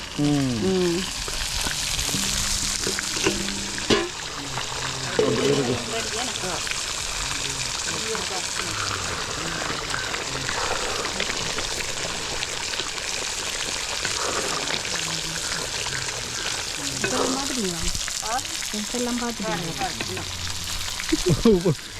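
Curry sizzles and fries steadily in a pan in a village kitchen, a continuous hiss with occasional stirring scrapes, heard close. Several people talk over the frying throughout.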